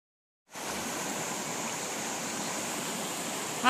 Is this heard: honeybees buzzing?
no